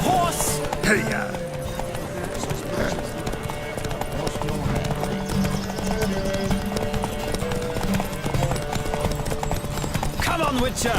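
Horse galloping during a race in The Witcher 3: Wild Hunt, a continuous rapid hoofbeat rhythm running throughout, with game music and a voice heard over it.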